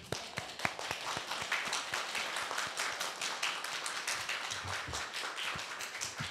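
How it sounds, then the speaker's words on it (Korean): An audience at a Korean academy lecture rises in a standing ovation for a Seoul National University medical professor, brisk, crisp clapping with distinct individual claps standing out, steady and close throughout. "다들 일어나셔서 큰 박수를 맞이해 주시죠."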